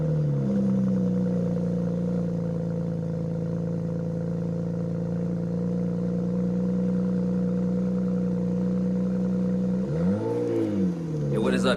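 Straight-piped twin-turbo BMW E90 fitted with ARM downpipes, holding a loud, steady droning exhaust tone close by, then blipping the revs up and down near the end.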